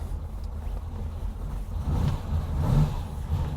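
A Ferrari Lusso's engine runs on a chilly morning drive with the oil still warming, a low, fairly quiet hum that rises slightly as the car moves.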